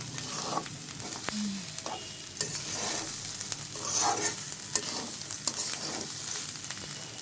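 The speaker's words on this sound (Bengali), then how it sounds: "চালটা ভালো করে ভাজা হয়ে গেলে ঝরঝরা হয়ে যাবে" Rice fries in a pan for bhuna khichuri with a soft, continuous sizzle while a spatula scrapes and taps against the metal at irregular intervals.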